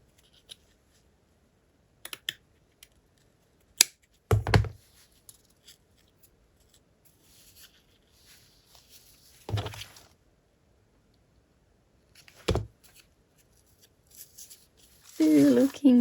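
Scissors trimming paper scraps: a few sharp, isolated snips spaced across a quiet stretch, close and fairly loud, with a louder rustle near the end.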